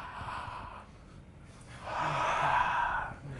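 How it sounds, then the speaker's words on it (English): Deep forceful breath drawn and pushed out during a back-bend bow stretch with fists pressed into the lower back and mouth wide open, a breathy rush swelling in two waves, the second longer and louder, close and alone. "You stretch back, open your mouth and your eyes as large as you can, and you breathe"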